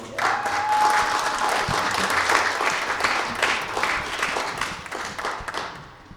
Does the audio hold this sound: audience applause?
yes